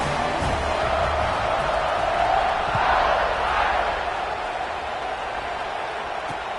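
A football stadium crowd at kickoff makes a broad, continuous roar of cheering that holds steady and fairly loud throughout, with no single voice standing out.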